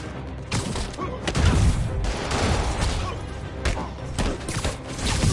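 Enemies opening fire in Spider-Man Remastered, a dense fusillade of overlapping shots and impacts over a loud game soundscape, with brief voices in the mix.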